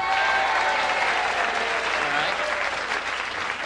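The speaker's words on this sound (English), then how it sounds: "All right, married folks applaud." Married audience members applaud at a 1984 Las Vegas stand-up comedy show, producing a steady wash of clapping from a sizable crowd that holds level and fills the room.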